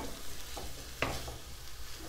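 Food frying in a pan while a spinach pizza is prepared, a steady soft sizzle running throughout with a brief stirring clatter near the middle, no one speaking.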